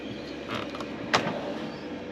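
A deep drawer slides open in a Golf Tourer caravan interior, giving a soft rolling rumble with one sharp click partway through, close by and with no talk.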